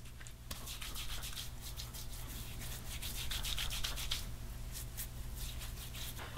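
Fingertips massage pre-shave oil into a beard before a straight razor shave, making a soft, close, continuous rubbing and bristly scratching with rhythmic strokes throughout.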